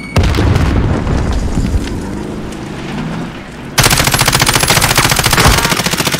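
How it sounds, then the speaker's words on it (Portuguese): Gunfire and blasts in the battle royale game Call of Duty Warzone around a thrown grenade, loud and close, with a heavy booming stretch that gives way to a rapid, rhythmic burst of automatic fire. "Jogando granada."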